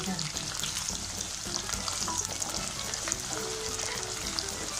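Onions and green chillies fry in a clay pot, giving a continuous dense sizzle with faint crackling throughout.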